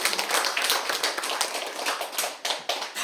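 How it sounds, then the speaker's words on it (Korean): Church congregation claps together during a Sunday service, a brisk burst of many hands at moderate distance, fairly quiet, with no talking. "박수하겠습니다."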